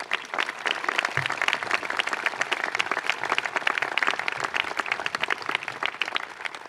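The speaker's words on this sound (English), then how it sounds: "How about a round of applause for Jan Scruggs?" A crowd at an outdoor Memorial Day observance at the Vietnam Veterans Memorial Wall applauds Jan Scruggs, a sustained, dense round of clapping lasting several seconds with no voices over it.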